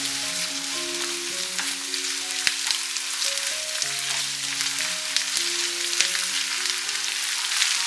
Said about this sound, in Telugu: దీన్ని పచ్చివాసన పోయే వరకు బాగా వేయించుకోవాలి